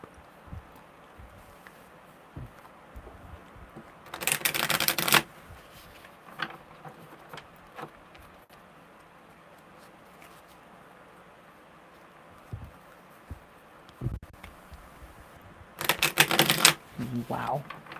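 Tarot cards being shuffled by hand in two brisk riffling bursts, one early and one near the end, with quieter handling and faint rustles between them.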